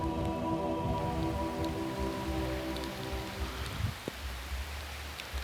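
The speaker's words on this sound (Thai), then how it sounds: "ฝนหนักมากเลยอ่ะ" Heavy rainstorm pounding down on the Ping River while fishing, a dense, steady roar of rain across the whole stretch with a low tonal hum underneath that fades partway through.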